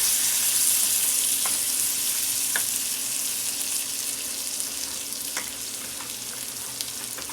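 Sausage gravy bubbling and sizzling in a pan, a constant fine hiss with occasional soft pops, close and steady, easing slightly toward the end with no talking.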